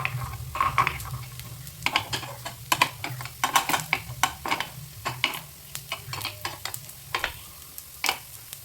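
Stuffed snacks fry in a pan with a low, steady oil sizzle and frequent light clicks and taps from a utensil, close and without talk.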